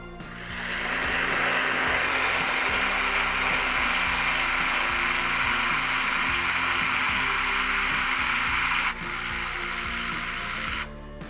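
A Procraft PC20 cordless caulking gun motor whirs steadily with a ratcheting, geared drive, then stops and reverses briefly before cutting off, heard close and alone.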